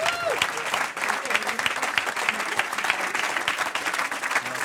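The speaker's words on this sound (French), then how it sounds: "Alors on fait un tonnerre d'applaudissements à Grégory Dorcel, s'il vous plaît." Sustained, dense applause from a crowd, steady and fairly loud for several seconds with no pauses.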